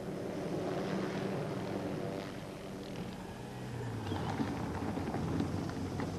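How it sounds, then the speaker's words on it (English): A police helicopter flies overhead, giving a steady, loud rotor and engine roar that persists throughout without any talk. "A police helicopter was overhead in moments"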